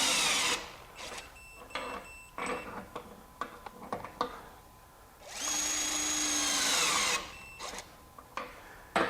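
A Milwaukee M18 Gen 3 compact impact wrench tightens fasteners at a 200 foot-pound setting. Short bursts and clicks come first, then one loud, sustained hammering whir lasts about two seconds, followed by scattered handling knocks, close by with no speech.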